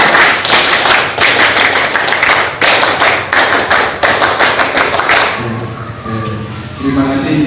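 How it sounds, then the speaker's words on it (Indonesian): A Scout group performs the Pramuka clap, a loud, close, tightly synchronized rhythmic pattern of claps and taps repeated in two rounds, then stopping abruptly as a voice begins speaking. "2 kali tepuk pramuka"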